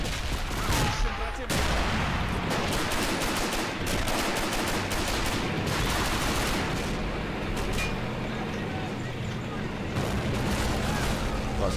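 Battle sounds from Men of War Assault Squad 2 at Stalingrad, with dense rattling gunfire and bursts from many weapons plus heavy booms, continuous and loud under a player's talk.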